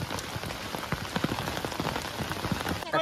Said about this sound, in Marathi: आणि पावसानं परत एंट्री केल्यानंतर ते बघा